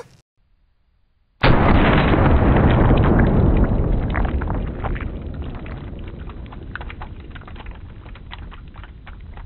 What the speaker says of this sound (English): especially when you start shooting powerful 45-70s like this